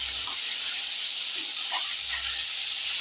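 Brinjal and drumstick sautéing in oil for a dry fish curry, producing a steady broadband hiss of sizzling that stays even and close throughout, with no talk.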